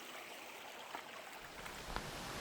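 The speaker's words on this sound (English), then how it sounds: "we're getting to pass this awesome looking stream here" Mountain creek on the Appalachian Trail near Spivey Gap, a steady broadband rush of flowing water that runs unbroken throughout, moderately close and alone without talk.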